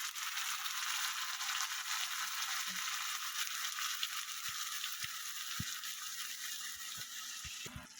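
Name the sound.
masala paste frying with browned onion in pan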